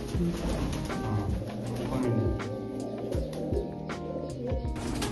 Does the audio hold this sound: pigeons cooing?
yes